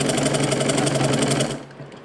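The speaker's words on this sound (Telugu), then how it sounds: "ఇప్పుడు నేను చివరి చివరగా ఒక కుట్టేస్తున్నాను" A sewing machine runs the final seam of a lined blouse, a fast, even mechanical stitching rattle up close that cuts off abruptly near the end.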